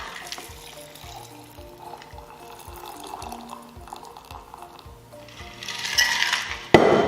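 A shaken drink is poured into a glass with ice at a winery, a short splashing pour near the end that finishes with a sharp clink of ice, after a stretch of quiet kitchen sounds and soft tapping.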